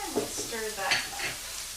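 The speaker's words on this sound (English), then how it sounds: "Stir that up." Mushrooms sizzle and crackle in a pan with salt, pepper and a woody herb while being stirred, a soft continuous frying hiss with faint scraping.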